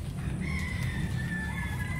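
Bulik gamefowl rooster crowing in a long drawn-out call, with faint clucking and farmyard background, heard from a moderate distance.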